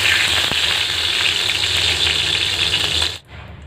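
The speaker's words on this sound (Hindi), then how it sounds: "ये देखिए प्याज और हरी मिर्च हमने ढककर 1 मिनट के लिए सेक लिया है" Onions and green chillies frying in ghee in a covered pan, a dense, loud, continuous sizzle with a faint clink early on, cutting off abruptly near the end to a quieter hiss.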